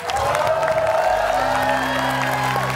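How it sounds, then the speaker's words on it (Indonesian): Audience applause and cheering at a lively evening show, a dense wash of clapping with whoops and crowd noise, and some voices mixed in underneath. "Tepuk tangan"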